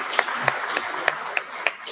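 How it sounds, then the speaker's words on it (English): Scattered, separate claps from a keynote audience at a Corvacon Fall 2021 event, about half a dozen sharp hits spaced unevenly over a low background murmur rather than a full ovation. "And let's give everybody a round of applause."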